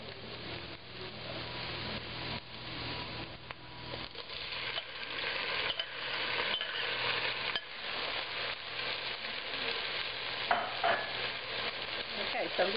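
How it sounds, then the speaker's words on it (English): Shrimp fry with garlic in a pan for Thai pineapple fried rice, a steady sizzle under irregular scraping and clinking stirs that grows louder partway through, close by. "So I'm just going to cook these shrimp"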